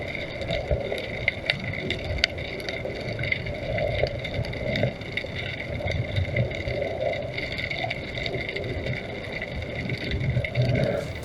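Boat motor picked up by the built-in mic of an AKASO Brave 7 action camera, a continuous low rumble with a light breeze and wind buffeting over it, steady and fairly close throughout.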